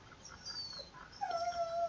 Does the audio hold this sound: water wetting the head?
no